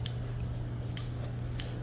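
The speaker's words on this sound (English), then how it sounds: "I'm going to use the smaller scissors for, hang on. I'm just going to contour her ears." Small grooming scissors trim fur around a dog's ears, giving three crisp, faint metallic snips spaced out over a low steady hum.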